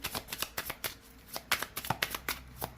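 Tarot cards are shuffled in a series of quick, crisp riffling and slapping bursts, close and fairly soft, with no voices.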